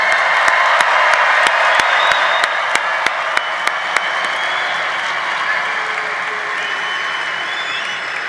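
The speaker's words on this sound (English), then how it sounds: "Let's give the class of 2025 another round of applause" A large audience at a university convocation gives a steady round of applause for the graduating class, dense, sustained clapping that fills the hall and gradually thins toward the end.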